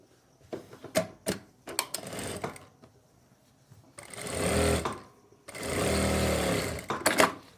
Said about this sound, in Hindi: अब इसको हम क्या करेंगे, फ्रंट हिस्से के साथ अटैच करते हुए यहाँ पर एक सिलाई लगा लेंगे